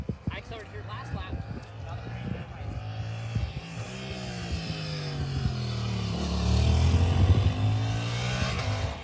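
Motorcycle on a race track at New Jersey Motorsports Park, engine note dropping with the throttle shut, then rising loud and sustained as it accelerates, with a voice talking over it at the start.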